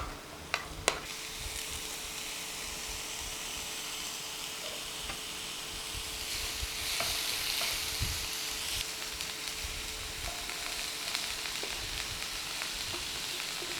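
Finely chopped onions, capsicum, ginger and garlic sizzle in a little oil, a steady, close frying hiss throughout with a few sharp spoon or pan knocks near the start and faint scraping while stirring.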